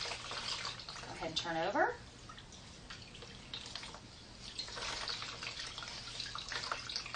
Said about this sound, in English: We'll put your hand back over the basin, and we're going to rinse it.